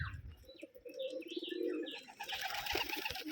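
Rajshahi giribaj pigeons, including a biscuit-coloured bird, coo in low, throaty rolls close by at a home loft, with bright chirps and tweets from other birds layered over the cooing throughout, and no voices.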